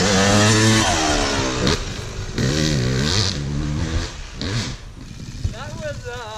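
A dirt bike climbs a hill on a wooded trail, its engine loud and close, revving and bogging with rising and falling pitch, while riders talk over it.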